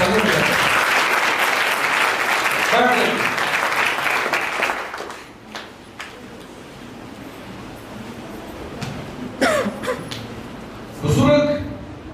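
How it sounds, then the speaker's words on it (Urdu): A Sunday church service congregation claps together, loud and dense for about five seconds, then fades into quieter room sounds with brief voices and scattered short bursts near the end. "تالیاں بجا کے بیٹھتے ہیں۔"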